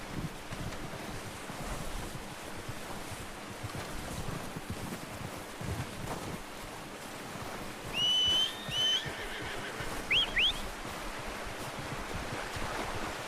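A horse in the video game Red Dead Redemption 2 whinnies twice in short bursts over a constant windy outdoor ambience.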